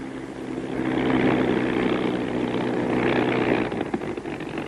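A Bell P-39 Airacobra engine rumbles steadily and fairly loudly while the fighter taxis to park, a broad continuous roar with a low throb underneath and no talking.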